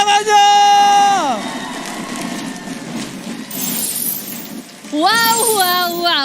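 Esports arena crowd of supporters at an MPL Indonesia match cheering and clapping, a sustained roar beneath loud musical tones and announcer voices that cut in and out.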